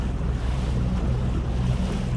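A boat heads out to sea in rainy, stormy weather to check lobster traps, with steady surf and wind noise rumbling into the microphone, loud and continuous, with no talk.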